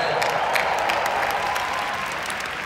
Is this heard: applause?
yes